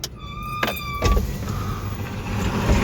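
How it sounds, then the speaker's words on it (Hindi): Trucks pass on a mountain road, a nearby high whine giving way to a loud, swelling engine rumble that grows louder toward the end. "अभी 1-2 ट्रक और निकल जाए, 2 ट्रकों को दे दूं रास्ता"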